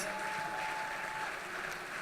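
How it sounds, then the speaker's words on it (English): An audience at a ball claps in a steady, even wash of many hands, fairly faint and distant, continuing without a break through the short stretch with a faint tone briefly heard over it. "that's worth a round of applause"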